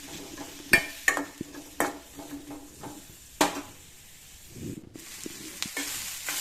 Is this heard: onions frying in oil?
yes